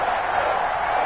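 A stadium crowd cheers before a Cleveland Browns versus New England Patriots matchup in an NFL video game, a loud, steady roar that fills the space without any break.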